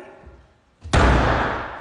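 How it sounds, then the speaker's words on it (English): A door slammed hard once, a sudden loud broadband impact with a long decaying rumble after a quiet moment. "You're gonna break the door"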